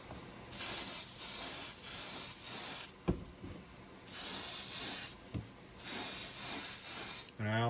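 Bursts of an airbrush-style spray gun laying down Createx UVLS 4050 gloss clear coat: three long steady hissing blasts separated by short pauses, loud and close, with no voices.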